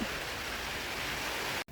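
Steady rain hisses close by, a dense continuous wash of drops that cuts off abruptly near the end.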